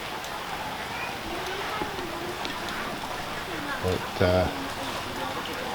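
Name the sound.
persistent rain falling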